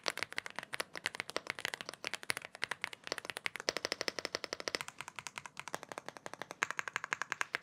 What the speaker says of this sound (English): The sound just from the box is really close to the ideal mechanical keyboard sound.